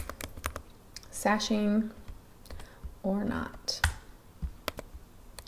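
Someone types on a computer keyboard while working in EQ8 quilt design software, with quick, sharp key clicks scattered around a person talking close by.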